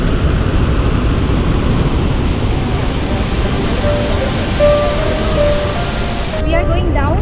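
Athirappilly waterfall on the Thali River in Kerala roars as a loud, steady broadband rush of falling water, continuous and close throughout, with a few faint tonal sounds near the end.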